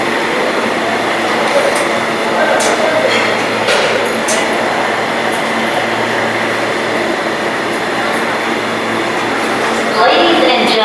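A New York subway train pulls into Grand Central on the uptown local track, a loud, steady rumble and rail squeal filling the platform, with a public-address announcement voice over it and brakes hissing near the end.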